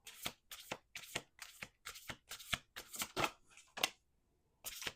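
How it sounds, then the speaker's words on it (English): Tarot cards riffled and shuffled by hand, a run of quick crisp bursts about twice a second, then a short pause before a final burst, close and clear with no talking. "Last shuffle."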